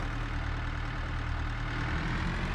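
Steady low engine idle from a pickup truck in Farming Simulator 22, a continuous mid-low rumble held at an even level throughout, with no talking.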